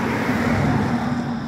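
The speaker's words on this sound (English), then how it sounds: "School bus." A school bus passes on a nearby road, a steady rumbling engine and road roar that swells slightly and then fades a little, with no voices over it.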